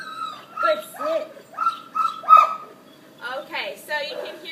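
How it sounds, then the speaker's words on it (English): Dogs in a big yard give a run of close, repeated yips, whines and barks in short bursts, with a pause before a final cluster. "you can hear we have the dogs barking"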